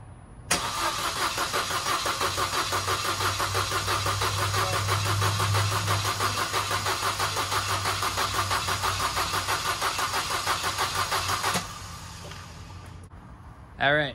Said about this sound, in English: I'm gonna bump the motor with the fuel injectors taken out, so we can